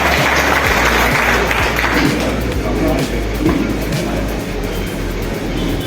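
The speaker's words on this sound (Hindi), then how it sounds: "हमारे बीच में दोनों अध्यक्षों का ताली स्वागत किया जाए।" A crowd of Congress party workers at a meeting hall in Gadarwara claps steadily to welcome two presidents, dense, continuous applause filling the room with a low rumble underneath.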